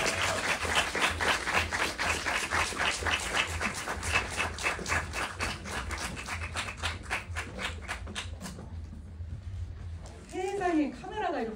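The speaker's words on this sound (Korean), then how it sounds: "박수로 맞아주세요." Audience applause welcoming guests at a film screening Q&A, a dense steady clapping that fills most of the clip before cutting off, followed by a brief voice.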